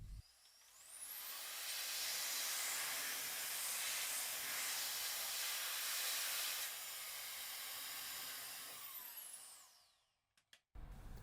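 Compressed air blasts in a long, loud hiss as it is blown into an opened PS4 to dry it after cleaning with IPA, then fades out, followed by a few short puffs.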